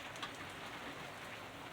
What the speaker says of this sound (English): As soon as I said that, the rain starts.